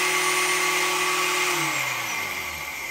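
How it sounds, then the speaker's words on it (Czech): A broken-in Flexa cordless angle grinder runs at a steady high whine, loud and close, then begins to spin down near the end. "Poslechněme si zajetou Flexu."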